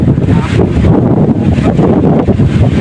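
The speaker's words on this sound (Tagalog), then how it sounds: "Ang lakas ng hangin." Strong outdoor wind blasting across the microphone, a loud continuous roar and buffeting with gusty surges and no breaks.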